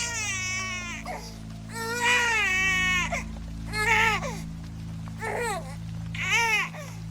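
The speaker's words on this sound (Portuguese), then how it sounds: "Era o choro forte, claro, e angustiante de um recém-nascido." A newborn baby cries in strong, anguished wails, several rising and falling bursts separated by short gasps, close and loud over a low steady hum.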